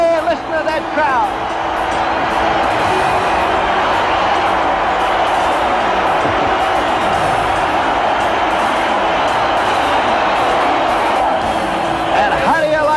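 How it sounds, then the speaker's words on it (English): A large baseball stadium crowd roars and cheers continuously after a home run, a broad sustained wall of noise with scattered whoops, heard from within the stands. "Hey, listen to that crowd."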